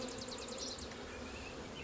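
Honey bees buzz steadily and softly, a warbling hum of many wings with one bee's pitch wavering close by.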